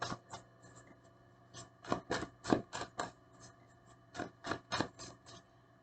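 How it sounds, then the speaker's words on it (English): Tarot cards pulled and shuffled from a deck in a series of crisp, close papery snaps and flicks, some in quick clusters, with quiet gaps between and no talking. "I'm gonna pull some more cards for you."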